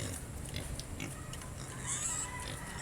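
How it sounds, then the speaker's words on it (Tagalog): Pigs on a family farm oink and grunt faintly amid steady outdoor background noise, with no clear close calls standing out. "Ayan po mga baboy."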